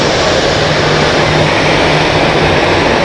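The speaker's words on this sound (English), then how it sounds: "What a beautiful A340 this is." Airbus A340 jet airliner at Zurich Airport, a loud, steady broadband jet engine roar filling the scene with no talk.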